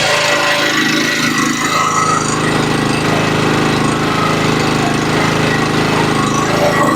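A 2.8 kW petrol generator runs steadily at close range, a loud continuous rattling engine drone with a buzzing hum and no break.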